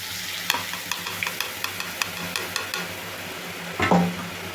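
Boondi batter sizzles and fries in hot oil in a pan while it is stirred. A steady close crackle runs throughout, with light tapping clinks and a brief louder stir near the end. No voices are heard.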